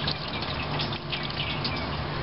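Water pours steadily into the water pan of a BBQ smoker being used for ribs, a continuous close gushing splash with no talk.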